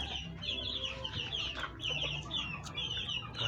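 Native free-range chickens cluck softly and continuously at a moderate distance in a backyard, layered low murmuring calls with occasional sharper notes over a steady outdoor background.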